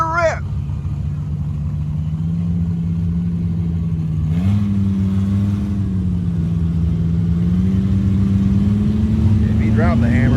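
A Chevy Colorado pickup with a Vortec engine at a mud ranch, idling with a steady low hum before a short rev raises the pitch, then settling into a sustained higher drone while people talk over it.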